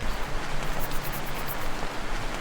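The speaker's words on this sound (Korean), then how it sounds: "야 빗소리 지긴다" Rain falls in a motel simulator video game, a constant soft hiss of drops spread evenly throughout with no voices over it.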